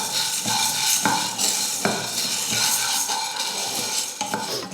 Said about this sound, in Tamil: இப்போ பயிரை நம்ம வறுத்து எடுத்துடலாம்.